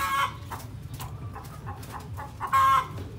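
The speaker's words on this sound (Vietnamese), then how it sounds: "Hình như là bạn gà mái đó đang ấp á" A hen sitting on eggs in a coop clucks repeatedly in short, close, fairly loud bursts, with a longer raised call near the end.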